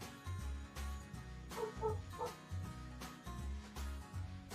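A dog barks repeatedly at a dock, sharp barks recurring through the clip over a steady low hum, with a few bird-like calls mixed in.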